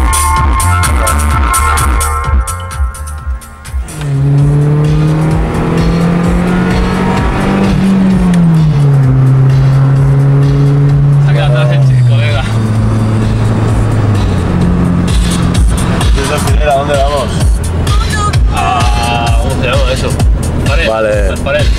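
Onboard a car during practice for a hillclimb race, the engine drones loud and close, its pitch rising and falling through gear changes and revs, with a voice talking over it.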